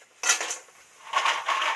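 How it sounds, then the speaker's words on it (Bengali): Phool bori, Bengali lentil dumplings, slide into hot oil in a wok and set off two bursts of loud, close sizzling with a short quieter gap between them. "কড়া গরম হয়ে গেছে, এই বড়িটা তেলের মধ্যে তুলে দিচ্ছি।"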